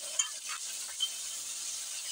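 Ground coriander, chilli powder, turmeric and cumin fry in a pan with a faint, steady, hissing sizzle, broken by a couple of soft stirring scrapes near the start.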